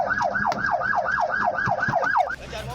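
An ambulance siren wails in a rapid, steady up-and-down cycle during a street chase after a minibus in Cileungsi, Bogor, loud and close with traffic noise beneath, cutting off near the end.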